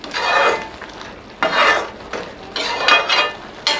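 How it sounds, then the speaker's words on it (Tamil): Tomato jam with dates being stirred as it sautés in ghee in a pan: bursts of scraping, clinking spoon strokes with a soft sizzle underneath, in uneven passes, close and fairly loud, with no voices. "நல்லா கிளறி விட்டுக்கோங்க."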